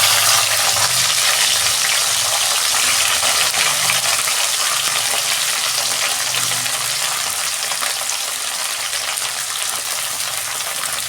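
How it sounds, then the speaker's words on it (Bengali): Bitter gourd frying in hot oil in a wok, a steady loud sizzle with dense crackle running throughout, alone with no voices. "আমি তেল দিচ্ছি কড়া, তেল গরম হয়ে গেছে, আমি উচ্ছেটা ভেজে নিচ্ছি।"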